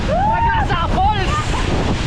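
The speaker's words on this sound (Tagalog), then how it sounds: "Ragasa Falls!" Ragasa waterfall at Cedar Falls, Bukidnon, pours in a loud, close, steady roar of rushing water mixed with wind buffeting the microphone, while a person shouts over the noise.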